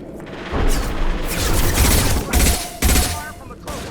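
Rapid bursts of gunfire and heavy booms in the Mass Effect 2 video game combat, loud and dense, with a short pause before a final volley.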